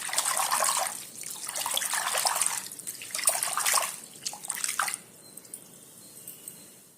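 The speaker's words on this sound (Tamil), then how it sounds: "தூதுவளையை தண்ணியில் போட்டு நல்லா வாஷ் பண்ணி எடுத்துக்கலாம்." Thuthuvalai leaves are swished and washed by hand in water for a homemade kolambu, giving close sloshing, splashing bursts in waves for about five seconds before fading to soft drips and quiet handling.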